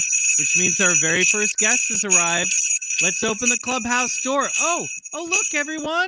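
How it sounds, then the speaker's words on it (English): Sleigh bells jingle continuously at a bright, steady shimmer beneath someone talking loudly and clearly throughout, the bells never breaking off. "Oh, that's the sound of sleigh bells jingling"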